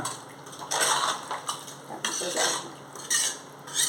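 A spoon scrapes and clinks against a metal pot of water for dum biryani in a few quick stirring strokes, close and fairly loud, with no talking.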